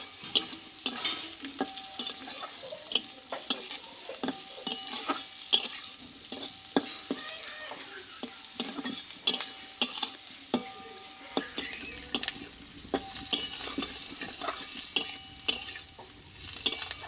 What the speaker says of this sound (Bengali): এই চিনিটা দিয়ে আমি আবারও কিছুক্ষণ নাড়াচাড়া করে নেব